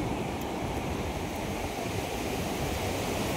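Sea waves washing onto a fairly empty beach as the tide comes in, heard as a continuous broad roar of surf with steady wind, loud and even throughout with no voices.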